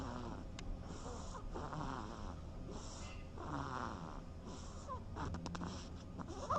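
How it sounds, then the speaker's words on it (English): A recording of a baby duckling snoring plays back as soft, rhythmic snuffling breaths repeating in a steady cycle over faint background noise. "This is the sound of a baby duckling snoring."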